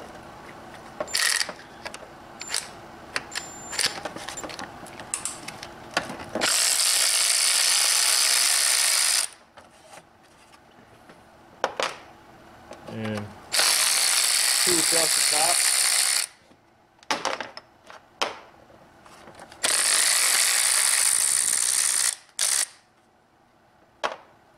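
A hand ratchet with an E12 socket loosens the oil cooler bolts on a BMW N55 engine, producing bursts of rapid, close clicking that alternate with quiet pauses and a few faint knocks.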